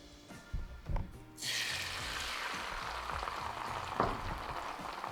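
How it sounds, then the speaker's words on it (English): Eggs, three of them, hitting a hot cast iron pan greased with butter or olive oil over medium-high heat, a couple of soft knocks then a sudden broad, steady sizzle that carries on loud and close, with one brief clatter near the end. "cast iron pan, butter or olive oil, put this up to medium to high heat, and then we will put in our 3 eggs"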